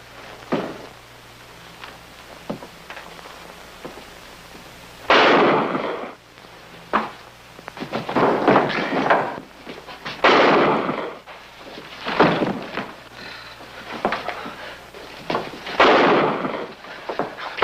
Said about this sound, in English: I don't want to disturb the neighbors with the gunshots.